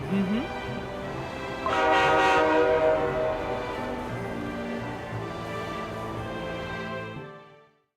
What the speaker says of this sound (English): Dear passengers, the doors are closing. Our train is departing.